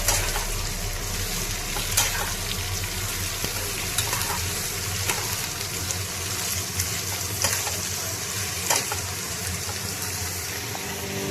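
Sliced potatoes fry with onion in a pan for aloo posto, giving a continuous, even sizzle with occasional sharp clicks of stirring against the pan.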